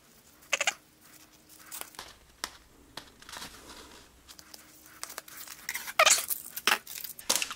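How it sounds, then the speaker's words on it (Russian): Masking tape pulled off the roll and torn, quick crinkly rips and sharp snaps scattered through, moderately close, while someone folds an instruction sheet into an envelope for drilling a wall. "Воспользуемся скотчем."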